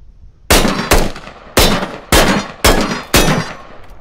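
Six loud, sharp rifle shots from a Squad game firefight ring out at a steady, moderate pace, each a broadband crack with a short ringing tail, fired alone and close as the magazine is emptied.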